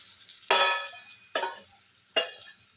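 Sabudana (sago) stirred in a hot pan over a gas flame, three distinct scraping swishes spaced about a second apart, close and fairly quiet against a near-silent background.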